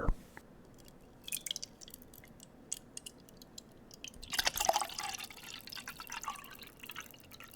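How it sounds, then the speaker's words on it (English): Very cold water is poured and sipped close up in a quiet room, with soft drips, small splashes and a few gulping swallows, faint and intermittent. "Okay, let me get some water."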